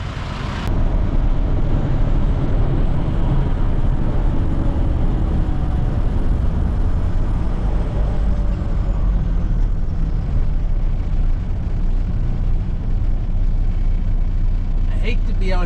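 A loaded semi truck cruising on the highway, its engine droning steadily at close range under continuous road and tyre rumble, with someone talking over it throughout.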